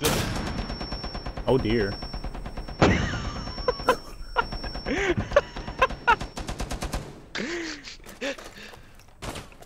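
Rainbow Six Siege gunfire, sharp shots and short bursts spread irregularly across the clip with brief gaps between them, plus a few short voiced exclamations.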